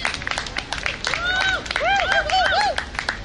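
An outdoor crowd at a parade claps in scattered, uneven bursts, while rising whoops and cheering voices ride over the clapping.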